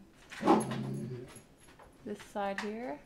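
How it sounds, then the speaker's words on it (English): A dog whimpers and whines, upset at a cat, in two short bursts of high, wavering cries indoors, with a person speaking quietly in between. "That is my dog getting upset at the cat."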